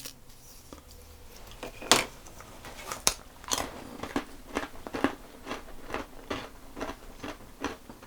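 Homemade rye crackers being bitten and crunched up close, a run of sharp crisp cracks about twice a second at first, then settling into steady chewing crunches.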